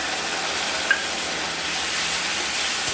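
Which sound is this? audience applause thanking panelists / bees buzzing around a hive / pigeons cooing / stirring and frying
stirring and frying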